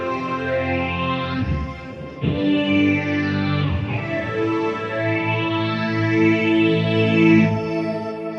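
A guitar synth patch on a BOSS SY-200 with delay: a sustained, shimmering tone with chorus-like wobble and echoing repeats, notes gliding and overlapping in a wide, ambient wash.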